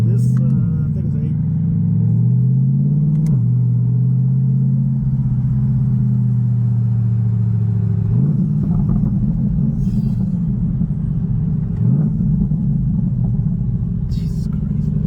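A Corvette supercar engine rumbles deep and loud while driving, swelling and dropping with the throttle, as people talk inside the car over it.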